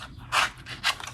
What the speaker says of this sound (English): Got some old school ribbon scissors here.